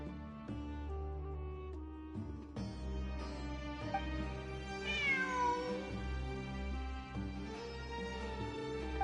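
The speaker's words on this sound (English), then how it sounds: "I'm not hearing things. It really is a cat." A cat meows repeatedly in the video game Genshin Impact, several drawn-out cries rising and falling over a continuous layer of game music.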